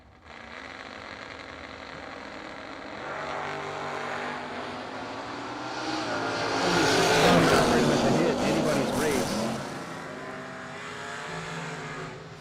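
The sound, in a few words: drag race between a Mustang and a Chevy II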